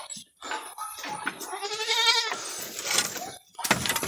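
Goats on a farm bleating loudly and close by, several wavering cries in quick succession, one long quavering bleat in the middle, with short gaps and small knocks between.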